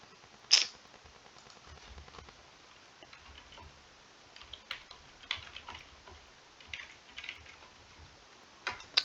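Computer keyboard typing, faint and sparse: irregular single key clicks and small clusters of taps over a soft background hiss, with no voices.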